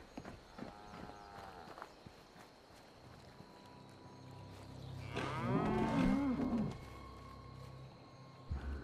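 A cow moos in the video game Fallout 76, one long, loud, wavering call near the middle, with a fainter lowing earlier and quiet game ambience around it.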